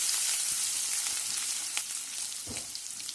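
Garlic and grated ginger paste sizzling over lowered heat in a pan, a loud close hiss with a few soft stirring knocks and no voices.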